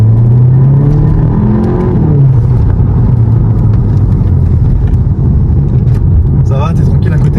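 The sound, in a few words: VW Golf 7 GTI Performance driving and accelerating on a road test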